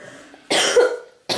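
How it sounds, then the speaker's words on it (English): A single harsh cough from someone with a cold bursts out close by, followed by the start of another right after. "My hack and cough and cold."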